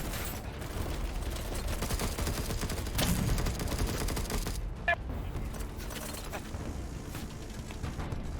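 Rapid bursts of gunfire fill an online shooter match in Battlebit, with dense overlapping shots and clattering reports running continuously from start to finish, punctuated by a few sharper cracks.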